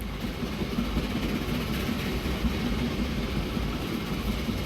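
A train runs along its line in the video game Train Fever, a continuous rolling rumble with faint rhythmic rail clatter, steady and fairly loud throughout with no talk.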